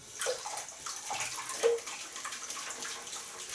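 Running water pours steadily over a large boar-bristle Omega 49 shaving brush as it is rinsed under a tap, a close, continuous splashing stream with small surges and no talking.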